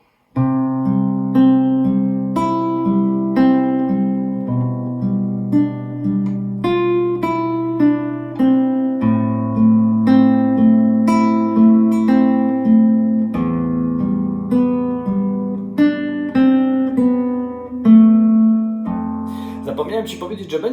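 A fingerstyle acoustic guitar plays a short four-note scale and a chord from the beginning as a steady run of plucked notes that ring into each other. The playing is close and clean, ending with a brief scrape of handling noise.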